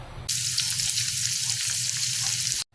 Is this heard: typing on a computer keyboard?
no